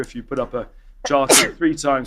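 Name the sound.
sneeze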